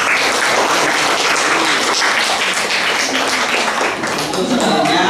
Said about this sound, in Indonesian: Aplaus dulu untuk teman-teman sampean yang sudah